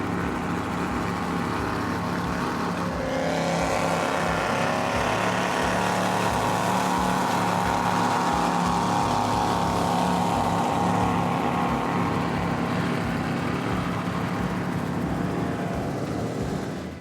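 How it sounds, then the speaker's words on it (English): A 42-foot Outerlimits Legacy powerboat running twin Mercury Racing 700 engines roars steadily at speed, a loud continuous deep drone with harmonic engine tones and water rush, swelling slightly midway and holding strong throughout. "This is a 42-foot Outerlimits Legacy powered by Mercury Racing 700s."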